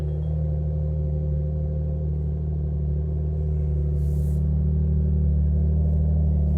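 A Porsche 911 Carrera T drives through a Texas snowstorm, its engine a steady, loud low drone that rises slightly as it pulls, heard close from inside the car with no talking.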